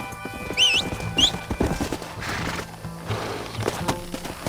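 A horse in the video game Red Dead Redemption whinnies twice in quick high squeals, followed by hoofbeats clip-clopping and rustling, fairly close.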